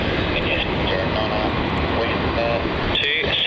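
An airliner's engines roar steadily at Melbourne Airport as it takes off, loud and sustained, with radio chatter and talk over it.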